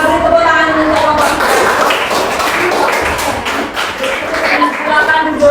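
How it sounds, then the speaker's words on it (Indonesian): Classroom applause for a student group after their presentation, a dense patter of many hands clapping for several seconds, fairly loud, with voices mixed in. "Kita beri tepuk tangan untuk kelompok"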